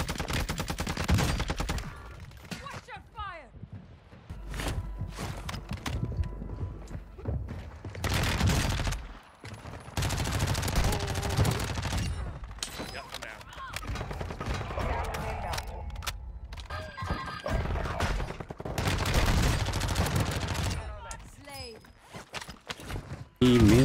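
Rapid automatic gunfire from an ISO Hemlock rifle in a video game match on Ashika Island, loud repeated bursts and volleys throughout with footsteps and occasional talk mixed in.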